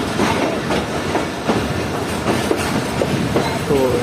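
The Karakoram Express passenger train rolls loudly into Hyderabad Junction, heard from inside a coach, with steady rumbling and rhythmic wheel clacks over the rail joints.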